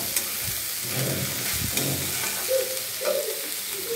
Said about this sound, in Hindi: अब इसमें डाल देते हैं चावल। मिक्स कर लेते हैं।